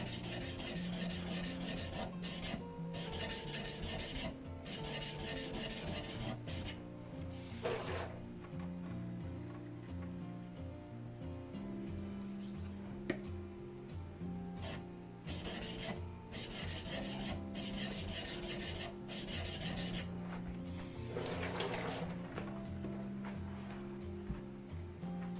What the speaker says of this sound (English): That was a chisel just sharpened